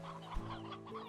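Chickens in the video game Slime Rancher 2, clucking in a soft, overlapping cluster of short calls at a moderate distance.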